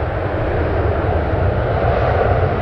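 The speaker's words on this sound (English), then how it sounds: "Look how fast that Dreamliner's taxing" Boeing 787 Dreamliner taxiing fast at San Francisco airport, a loud, steady jet engine roar that stays close and even throughout with no voices.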